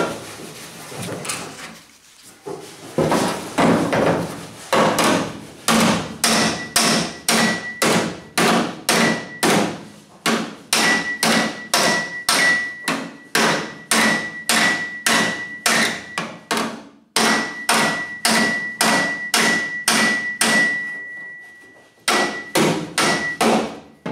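Rapid, steady hammer blows ring out on the sheet-metal cowl of a 1977 Camaro Z28, flattening ripples, dozens of sharp metallic strikes in quick succession, loud and close with a faint ringing tone.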